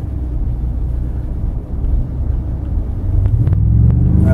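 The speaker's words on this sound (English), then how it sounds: "We're about to get on to the highway and see just how strong this thing really takes off." A 2015 Ford F-150 Platinum FX4 pickup accelerates hard onto a highway, a steady low engine rumble that swells and deepens in the last second as power comes on.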